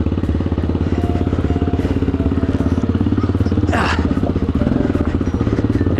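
An Aprilia Pegaso 650 motorcycle idles with a loud, close, rhythmic single-cylinder thump as it rolls down a steep, flood-worn slope, with a brief scrape midway and faint clatter.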